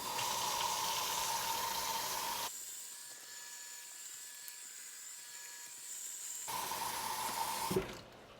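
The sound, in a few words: sink filling with cold water over sweet potatoes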